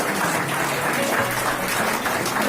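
Congregation clapping at a Christian wedding ring ceremony in Nepal, a steady, dense patter of many hands filling the room throughout, with faint voices beneath.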